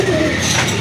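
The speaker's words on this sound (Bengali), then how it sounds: "আরেক জোড়া কবুতর রাজগোল্লা কবুতর" Rajgolla pigeons give a short, close, fairly loud coo over a soft background hum.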